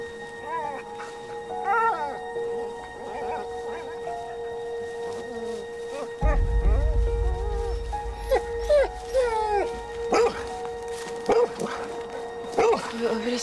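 A dog barks and yips repeatedly amid a tense outdoor scene in a forest, the yelps mid-distance and intermittent, with people talking over them and a low rumble joining partway through.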